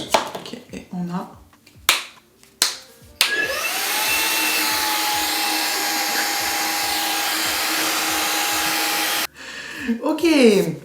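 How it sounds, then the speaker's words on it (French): A mini vacuum cleaner whirs steadily and loudly for about six seconds after a few clicks and handling knocks, then cuts off abruptly, with more rattling of parts afterward. "Est-ce que je suis en train de craquer pour un mini aspirateur?"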